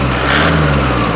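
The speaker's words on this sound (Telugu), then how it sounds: "ఇంజన్ యొక్క నాయిస్ కూడా సైలెంట్గా అయితే ఉందండి" A 2014 Toyota Innova 2.5 V engine runs at a steady idle, an even low hum with a smooth mechanical drone, close and fairly loud over a brief moment.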